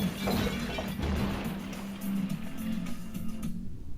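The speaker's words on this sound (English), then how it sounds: "As the tower crashed to the ground, bricks and dust exploded everywhere." A model brick tower crashes down heavily with crumbling, breaking debris, loud and sustained, rumbling on before dropping off sharply near the end.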